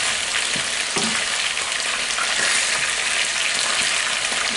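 Paella sizzles and fries steadily in a pan, a dense continuous crackle with occasional soft knocks of stirring, close and loud with no voices.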